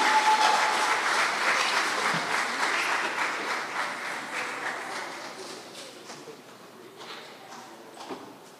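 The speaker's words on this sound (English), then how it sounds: "I want all of us to give them a big round of applause." Applause at a junior school graduation ceremony, where an audience claps steadily in a hall. The clapping is loud at first and gradually thins and fades, with a few scattered claps and knocks at the end.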